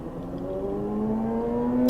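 Traffic on a nearby major highway, heard from a car parked beside it: a steady engine hum and whir with rising tones that swell slightly as vehicles pass, with no talk.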